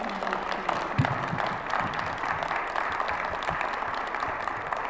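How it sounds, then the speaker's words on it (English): Moderate applause from an audience at a city council candidates forum, a steady wash of clapping with a few sharper claps standing out. "Could we have a big round of applause for our"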